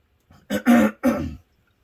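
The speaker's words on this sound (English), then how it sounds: "really apologize for all the throat clearing and coughing" A person clearing their throat and coughing close by: a short rasp followed by two harsh bursts, then quiet.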